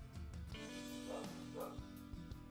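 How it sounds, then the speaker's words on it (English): A dog barks a few times in the background, muffled and faint, beneath a low steady hum. "Okay, I'm gonna go see what July's barking about"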